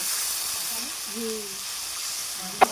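A frying spice paste with green chilli and red chilli powder hisses in a pan as water is poured in for a Bengali fish dish, a low steady sizzle that ends with a sudden sharp clack.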